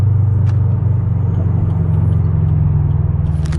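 Interior engine drone of a Subaru BRZ with an upgraded clutch while driving, a loud, steady low hum with rumble and road noise.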